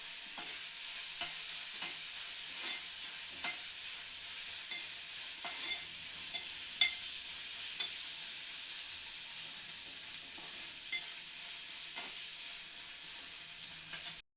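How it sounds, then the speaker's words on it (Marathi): Onions fry in a pan over a medium-high flame, giving a constant soft sizzling hiss broken by regular scraping clicks from the stirring spoon, close but fairly quiet, with no voices. "पुन्हा कांदा चांगला परतून घ्या."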